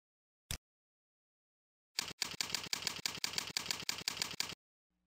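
Keystrokes on a computer keyboard typing a domain name, a quick regular run of about a dozen clicks after a single isolated tap, close and clear with no talking.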